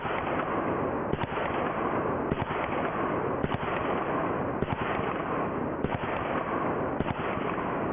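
Sharp gunshot bangs, fired on a ranch by a shooter hanging suspended, ring out every second or so, about seven in all, each cutting through a loud, constant roar of broadband noise.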